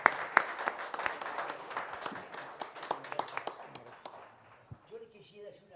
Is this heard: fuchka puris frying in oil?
no